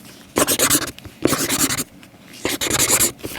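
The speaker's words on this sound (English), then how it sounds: "Let's draw some stars." A marker drawing stars on a handmade Father's Day card, close scratchy squeaking strokes in three quick bursts separated by brief pauses, with no talking.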